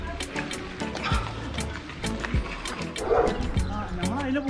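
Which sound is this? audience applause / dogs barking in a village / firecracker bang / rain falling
dogs barking in a village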